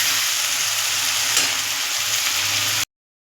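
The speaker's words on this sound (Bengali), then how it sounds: "দেখুন আলুটা প্রায় ভাজা ভাজা হয়ে এসছে" Potatoes fry with turmeric in a hot pan, a steady loud sizzle that runs unbroken for nearly three seconds before cutting off abruptly.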